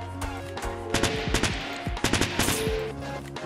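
Gunfire in Fortnite: Battle Royale on PC, rapid bursts of automatic shots cracking out close and loud over steady in-game tones, with short pauses between volleys.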